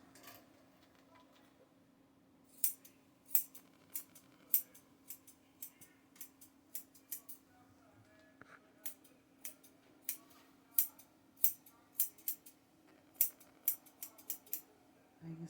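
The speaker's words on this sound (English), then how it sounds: "take our curved scissors" Curved grooming scissors trimming a dog's coat, a quick, sharp metallic snip repeated irregularly in short bursts, close and clear over a quiet hum, without talk.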